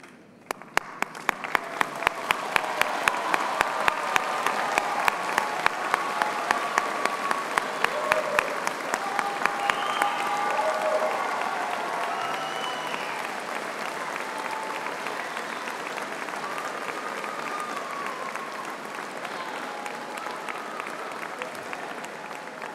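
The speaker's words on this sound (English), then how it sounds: "join me in giving them a well-deserved round of applause" A large audience at a Birmingham City University graduation ceremony breaks into sustained applause, loud and dense, with sharper individual claps standing out early on and voices faintly mixed in as the clapping continues.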